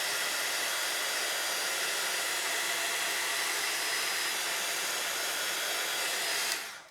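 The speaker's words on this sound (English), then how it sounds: "I'm just going to give it a quick blast with my heat tool" A craft heat tool blasts continuously to melt away glue strings on a card, a loud, steady hair-dryer-like roar held close for several seconds before cutting off abruptly.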